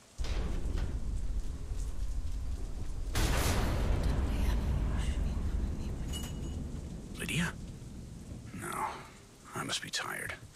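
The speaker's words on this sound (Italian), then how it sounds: "Damn storm." Rain pours and a storm rumbles in the video game Deadlight, a dense, steady hiss with a louder surge partway through, while people talk over it.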